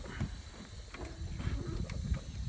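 A jack raises the cab of a Ford 7.3 Powerstroke truck, giving a close, continuous hissing, mechanical strain broken by short, repeated creaks and knocks. No one speaks.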